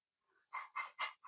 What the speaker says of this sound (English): that is my dog. He is in the room next door whining because he hears me.